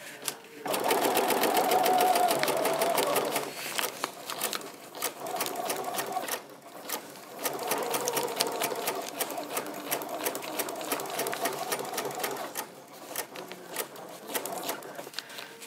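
A sewing machine stitches freezer-paper-pieced quilt fabric, its steady mechanical whir running close and loud with brief pauses between bursts of stitching.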